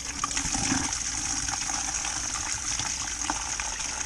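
Washer fluid mixed with water pours and splashes out of the washer reservoir of a BMW E91, a steady continuous gushing trickle close by with no talking.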